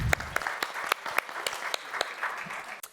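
A crowd at a university pitch competition applauds a presenter, with steady, dense clapping and a few sharp individual claps standing out close by, continuing for several seconds.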